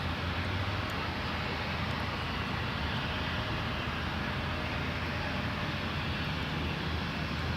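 An Envoy Embraer 175 regional jet departs a fog-covered Toronto Pearson runway for Dallas, its engines a steady broadband roar held at constant loudness throughout, with no voices.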